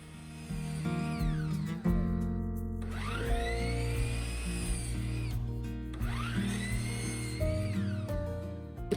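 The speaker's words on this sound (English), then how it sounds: "I drilled some pocket holes and sanded them down before attaching them" A power drill bores pocket holes in 1x2 and 1x3 boards for a DIY bathroom vanity, with two long whining runs that rise in pitch as the bit spins up and cuts, loud and close.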